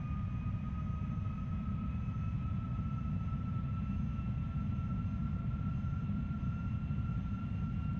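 MD-11 airliner engines drone at low power while the jet taxis sluggishly at Denver in Flight Simulator X, a quiet, steady low rumble with faint sustained whining tones and no talking.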